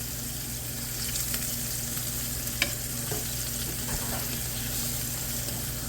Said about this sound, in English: Fish in the mustard, in the batter, and in the pan.